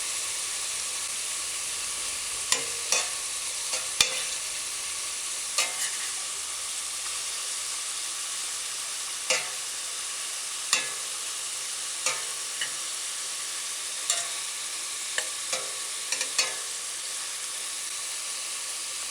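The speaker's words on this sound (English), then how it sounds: "with the chicken slow frying" Chicken slow frying in a pan for a broad bean stew gives a steady, even sizzle and hiss, broken by scattered soft pops and light stirring clicks, with no talking.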